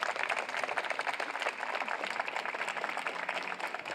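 Graduating students at a high school graduation applaud their families and supporters, a dense, even crowd clapping sustained throughout, heard at moderate distance.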